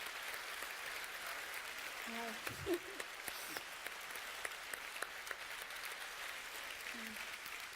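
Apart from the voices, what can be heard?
audience applause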